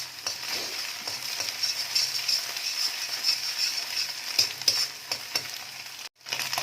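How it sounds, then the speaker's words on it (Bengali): Egg frying in hot oil in a pan for prawn egg fried rice, a steady bright sizzle with occasional stirring scrapes and crackles, close and continuous, briefly cutting out near the end. "ডিমটাকে ভালো করে ভেজে নেবো"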